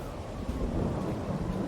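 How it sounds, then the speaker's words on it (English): Steady rain falls on a farm in early March, a dense, constant hiss with a low rumbling undertone, close and continuous with no voices. "It's raining."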